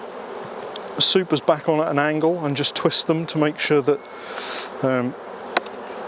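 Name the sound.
honey bees buzzing during a beehive inspection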